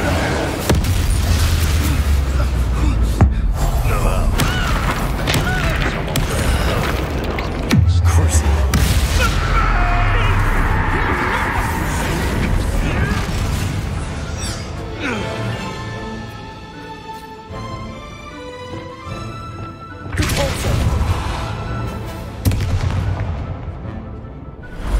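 A Confringo blasting spell explodes in Hogwarts Legacy, sending loud booming bursts through a chaotic fight. A swelling magical ring and further blasts follow, with a voice speaking over parts of it.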